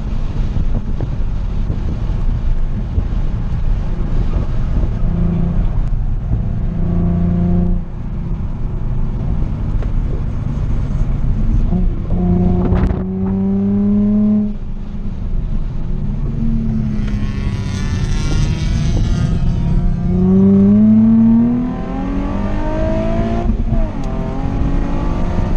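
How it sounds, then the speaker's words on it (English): Infiniti G35 Coupe drifting on a track, its engine revving up and down in repeated rising sweeps under steady wind buffeting across the microphone, loud and close throughout. "Drifting comes second nature for the G."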